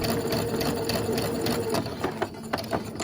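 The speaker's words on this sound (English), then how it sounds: "When I stop, it plants my needle and raises my foot." A sewing machine chain-pieces quilt blocks, its needle running in a fast, even mechanical whir up close and then pausing with a few sharp clicks as it stops.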